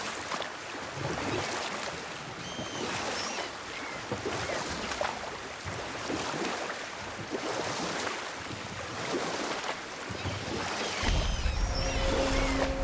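Rowing a small boat across water in God of War, with steady washing of water and waves against the hull under wind, and a low rumble rising toward the end.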